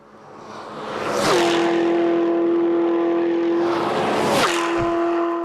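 A car at about 350 km/h on the Nardo high-speed test track sweeps past twice, each pass a sharp whooshing roar with a sustained high engine tone between them, loud and close.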